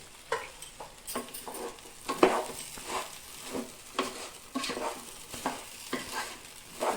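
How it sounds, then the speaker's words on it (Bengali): Salt, turmeric and cumin powder frying in a pot of vegetable khichuri, with a soft background sizzle and repeated spoon strokes scraping and stirring at an uneven rhythm, close but fairly quiet. "ভালো করে আমি ভেজে নেব"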